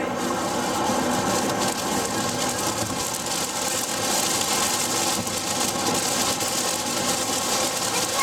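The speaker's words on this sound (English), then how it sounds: "This rain?" Steady, heavy rain pours down continuously on a hard surface beside the USS Lexington aircraft carrier in Corpus Christi, a dense, even hiss with no talk over it.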